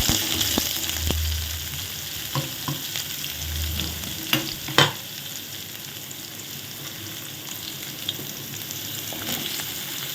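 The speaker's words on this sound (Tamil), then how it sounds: "எண்ணெயில் வதங்கட்டும்." Tamarind and chopped coconut sauté in hot oil for a thuthuvalai chutney. A steady close sizzle carries a few clustered spatula clacks and scrapes in the first half, with no speech.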